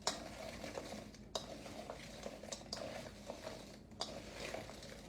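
Ritz crackers tossed in a bowl with melted butter and ranch dressing mix, heard as faint, steady scraping and clinking of a utensil against the bowl with occasional soft knocks, close and quiet.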